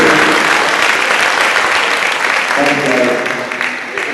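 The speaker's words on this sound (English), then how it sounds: "let's give a round of applause" Crowd applause at an FFA awards banquet, loud continuous clapping that thins slightly in the last second as voices begin to rise over it.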